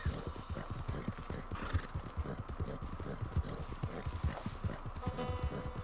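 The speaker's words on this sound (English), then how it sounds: "I hear horses, but I don't think they're enemies." Steady clip-clop of horse hooves at a brisk walking rhythm in Red Dead Online, with a horse whinnying partway through, all fairly close and continuous.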